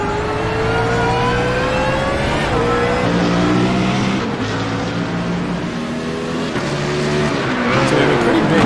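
Race car engines revving and shifting through gears as cars lap the Zandvoort circuit in iRacing, loud and steady with rising and falling pitch, under a commentator's voice.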